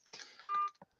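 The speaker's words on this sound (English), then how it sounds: "I don't know if you guys could hear all those beeps coming in" Incoming-call notification beeps on a phone-in livestream: a short burst of steady electronic tones, one sustained beep and a brief blip after, faint and alone with no talk.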